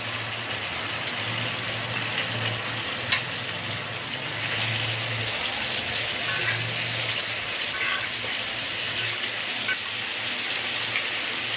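Ginger paste fries in a pan while malai jhinge cooks, giving a continuous soft sizzle with scattered small crackles and pops, close by and fairly quiet, with a low steady hum underneath.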